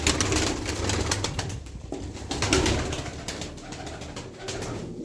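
Aksaray tumbler pigeons coo in soft, repeated calls close by, with occasional wing flutters and background noise.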